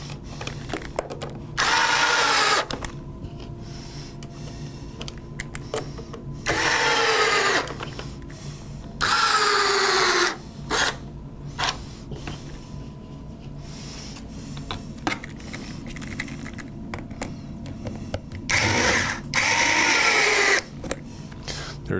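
A power drill drives screws into the tab locations of a pontoon in about five short whirring bursts spread across the stretch, each rising and falling in pitch, with quiet handling noise between them.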